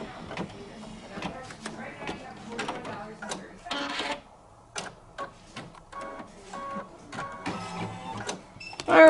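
An embroidery machine stitches around a line twice, giving rapid, uneven mechanical bursts of whirring and clicking with brief pauses between runs.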